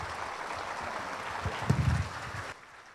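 Applause from an audience at a Buddhist Dhamma talk, a broad steady patter of clapping that swells briefly near the middle and then drops away toward the end.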